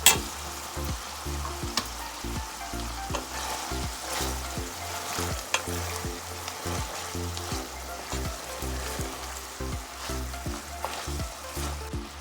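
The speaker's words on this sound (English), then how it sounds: "so we can cook the ground beef and make it nice and soft" Ground beef with garlic sizzles and fries in a pan for cassava tacos, a steady crackling hiss broken by regular scraping stirs, close and moderately loud with no talking.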